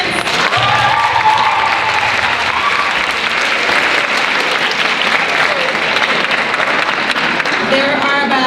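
Enthusiastic audience applause for students at a school event, a dense, steady wash of clapping that fills the whole stretch at a loud level, with some cheering mixed in.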